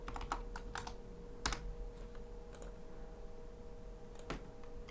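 Commands being typed on a computer keyboard while configuring a Cisco network switch: scattered, quiet key clicks and a few sharper taps over a faint electrical hum, with no talk.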